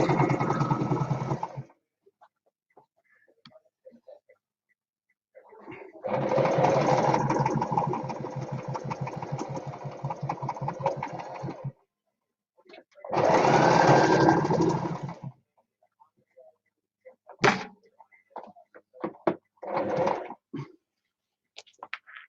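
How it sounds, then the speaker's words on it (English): A sewing machine stitches in three separate runs of steady, fast mechanical whirring, each lasting a few seconds with quiet gaps between, followed by brief clicks and handling sounds close by. "I'm going to put this one on here, and I'm going to sew that."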